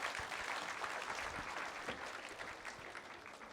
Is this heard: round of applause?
yes